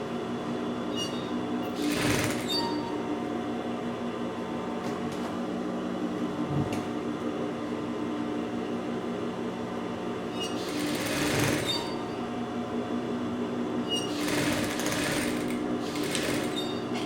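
Sewing machine stitching a blouse, a steady close mechanical whir running continuously, with louder bursts of faster stitching around a few moments and a constant hum underneath.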